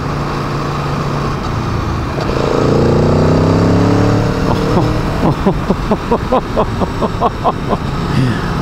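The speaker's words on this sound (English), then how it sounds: "Fourth gear, way down low in the RPM range, and still the sheer power is absolutely incredible." An Aprilia Tuono motorcycle pulls hard in fourth gear from low engine speed, its engine note climbing steadily over rushing wind noise, then continuing as a pulsing, throbbing drone.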